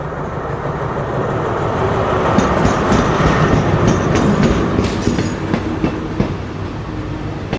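A train rumbles through a railway station, loud and close, with continuous clickety-clack of wheels over rail joints, metallic squeals and clanks, and no talking.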